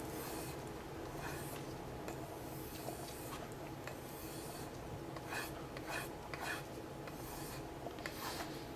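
A knife edge is drawn across the rough side of a leather strop loaded with green compound, making faint, repeated scraping strokes in a quiet room.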